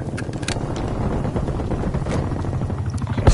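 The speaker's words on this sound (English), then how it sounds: "Hostile attack helicopter inbound." A hostile attack helicopter in Call of Duty: Black Ops Cold War multiplayer drones with a steady, close rotor throb and engine rumble, with sharp clicks and gunfire-like snaps scattered over it.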